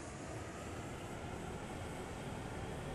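Aircraft engine in the Nuclear Option flight game throttling up for taxi, a steady dense roar that holds loud and even throughout with no talking.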